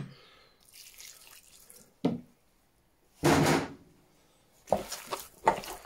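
Water splashed into sausage meat mix at a traditional butcher's, heard as short bursts of splashing and pouring separated by quiet gaps, with a brief sharp knock and a louder final few splashes, no talking.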